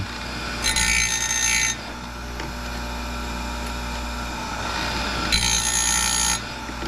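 An Oregon 511A professional chainsaw chain grinder bites into a chain in two bursts of harsh, high-pitched grinding, each lasting about a second, over a constant motor hum.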